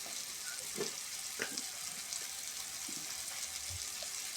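Onion pieces frying in a pan, a quiet, continuous hissing sizzle with faint occasional pops and stirring, close by and without talk.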